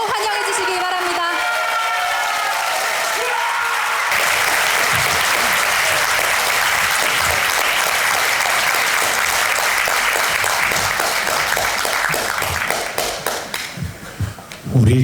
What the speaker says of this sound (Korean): 모두 일어서셔서 큰 박수로 환영해 주시기 바랍니다.